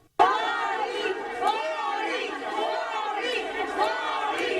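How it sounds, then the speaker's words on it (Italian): A protest crowd in Venice of gondoliers, tour guides, street vendors and porters, held back by police, shouts and chants loudly and continuously after a sudden start, many voices blending into a dense, surging roar. "La folla invoca a gran voce sindaco e assessori, vorrebbe che qualcuno scendesse giù."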